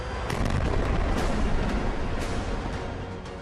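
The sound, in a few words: explosives demolishing a building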